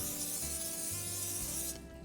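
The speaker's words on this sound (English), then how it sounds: "I'm just going to go ahead and spray" Canola cooking spray hisses onto a frying pan in one steady burst of about two seconds, close and fairly quiet, cutting off sharply at the end.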